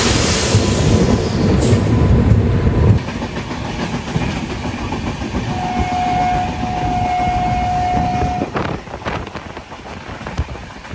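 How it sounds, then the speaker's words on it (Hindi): The Howrah–Jagdalpur train passes close by, a loud steady rumble of wheels on rails that drops slightly partway through, with a brief sustained tone and rattling carriages. "सामने से जो ट्रेन आप देख रहे हो ये हावड़ा जगदलपुर"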